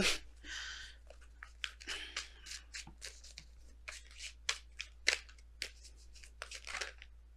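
Tarot cards being shuffled by hand, close and quiet, with a string of soft papery flicks and riffles in irregular bursts, no talking.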